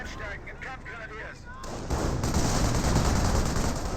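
Vickers machine gun fire in the Company of Heroes strategy game erupts after a brief stretch of voice: a dense, sustained rattle of rapid shots, loud and continuous to the end.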